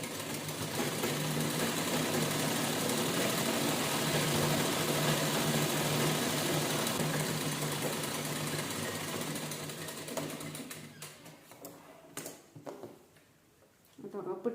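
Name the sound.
sewing machine top-stitching a blouse waistband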